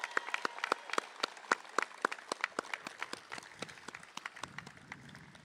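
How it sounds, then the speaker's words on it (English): A smallish crowd at a community college commencement claps as a speaker returns to his seat, with distinct individual claps audible in an uneven rhythm that gradually thins out. "Let's give him another round of applause as he returns to his seat."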